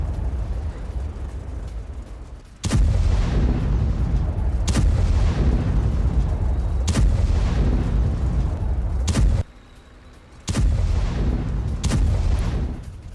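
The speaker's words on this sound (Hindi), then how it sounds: "रूस के खिलाफ एक्शन में Abrams MBT tank, 120 mm round shell से भारी फायरिंग।" Abrams main battle tank firing 120 mm rounds in combat, used by Ukraine's 47th Mechanized Brigade: loud, close booming blasts in a rough series of about five, each with a rumbling tail, no speech.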